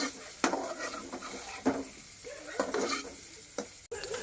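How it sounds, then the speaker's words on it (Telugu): Ginger frying in a hot pan, with a steady sizzle punctuated by several sharp stirring clatters and scrapes of a utensil against the pan, close and moderately loud. "ఇప్పుడు అల్లం వేస్తుండు"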